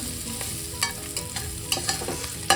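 Onions for soya potato pulav fry in a pan with a steady crackling sizzle, broken by several sharp stirring scrapes and clacks close by.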